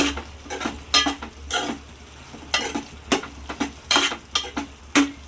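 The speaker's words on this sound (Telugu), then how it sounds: "నేను వన్ స్పూన్ కారం వేసుకుంటున్నా వీటిని బాగా మిక్స్ చేద్దాము" Chili powder being stirred into a drumstick and tomato curry in a pan: repeated close scraping strokes of a spoon against the pan in an uneven rhythm over a low, steady sizzle, with no talk.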